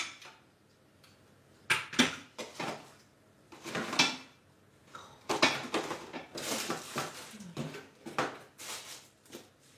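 A kitchen drawer is pulled open and rummaged through for a candle, with repeated wooden slides, knocks and rattling of small objects in bursts, close and fairly loud, with no voices.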